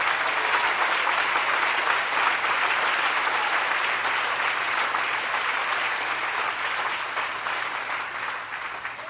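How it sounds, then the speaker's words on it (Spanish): Sustained applause from a large church congregation, steady and loud, gradually tapering slightly toward the end. "Denle el aplauso al Señor si es para Él."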